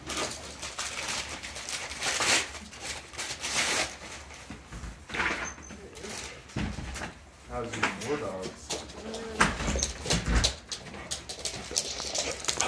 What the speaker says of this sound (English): There's too many dogs.